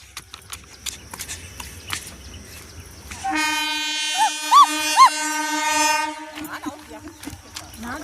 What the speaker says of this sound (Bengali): চলো ট্রেন আসছে